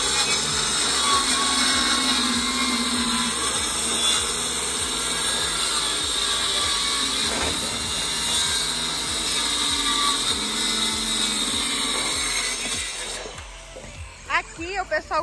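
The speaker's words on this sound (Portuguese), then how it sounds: "Aqui é o pessoal cortando o piso." A power tool cuts fiber cement and wood floor boards on a building site, giving a steady, loud whine with a rapid pulsing beneath it that cuts off near the end, followed by a few faint knocks.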